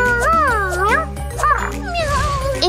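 Cartoon cat meows in a high, sliding voice, several wavering mews over busy music with jingling tones and other voices in the background.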